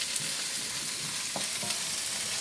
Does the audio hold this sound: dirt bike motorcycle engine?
no